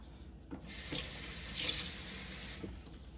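Water gushes from a tap into a sink, a steady rushing splash with a few brief clunks, close and loud.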